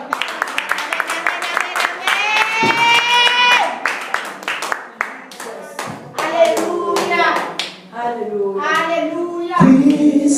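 A church congregation claps along in rhythmic bursts during a worship service, steady hand claps under loud singing and speaking voices.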